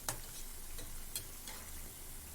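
Mysore bonda fry in oil over a medium flame with a steady, faint sizzling hiss, broken by a few sharp ticks and crackles at irregular moments.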